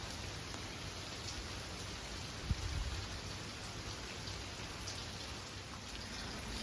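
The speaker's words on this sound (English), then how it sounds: "It's starting to rain out there." Rain from Hurricane Ian falls as a steady, even hiss of drops on surfaces outdoors, with gusty wind, continuous and moderately loud, broken only by one brief dull knock.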